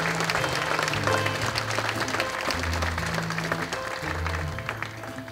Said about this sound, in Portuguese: palmas são para os